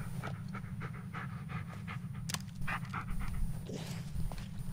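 Bullet, a dog in the Blair Witch video game, pants close by in rapid rhythmic breaths over a low ambient hum, with a soft whimper near the end.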